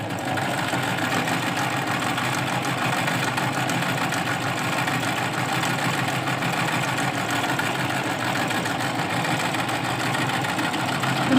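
A sewing machine runs steadily while stitching close to a button, its even mechanical whir continuing without a break for the full stretch, near and fairly loud with no voices over it.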